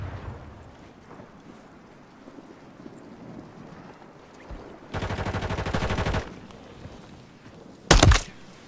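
Rapid automatic gunfire in a video game: a sustained burst of about a second mid-clip, then a shorter, louder burst near the end, over a quiet, rumbling background.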